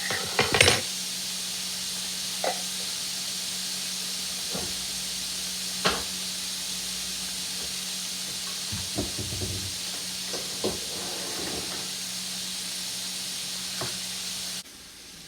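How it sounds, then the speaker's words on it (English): Vegetables, peppers among them, hiss softly in a hot skillet with a low, steady steam. Scattered clinks and knocks of a utensil against the pan punctuate the hiss, and it cuts off abruptly at the end. "Then I add all of the vegetables to the pan and saute them up for a second."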